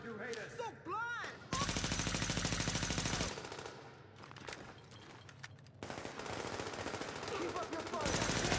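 Automatic gunfire from a battle in the video game The Division comes in long sustained bursts, with short breaks between them, over busy in-game effects and faint voices.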